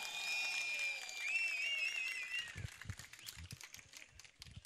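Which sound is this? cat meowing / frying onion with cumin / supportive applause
supportive applause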